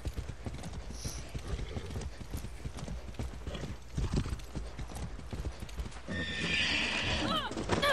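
A horse in the Far Cry 6 video game clip-clops along, then splashes into water and neighs loudly near the end, with a voice speaking over the hoofbeats.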